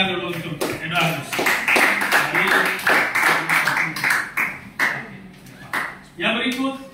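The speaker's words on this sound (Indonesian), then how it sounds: "Tepuk tangan dulu untuk Eduardus." A classroom claps for a student, with uneven sharp hand claps that come fast and dense at first, then thin into scattered claps, and voices mixed in.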